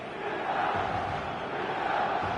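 A dense, roaring stadium crowd at San Siro in the football game eFootball 2024 keeps up a continuous cheering wash with chants rising within it.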